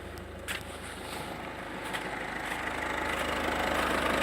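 A 2018 Peugeot 208 engine idles with a steady low rumble and faint rhythmic knocking, growing slightly louder, with a few light clicks over it.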